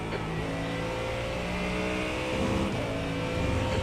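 Faster prototype-class race cars closing in during an iRacing sim race, engine drone steady and close with a rising pass of revving motors, no talk.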